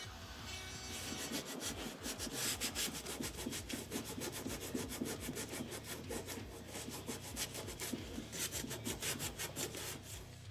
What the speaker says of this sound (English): I'm going to use this in the end of my Fordham handpiece to carve the outside edges of the design to smooth everything out.